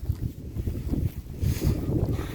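Gusty wind buffets and roars across the microphone in uneven waves, with a low rumbling undertone.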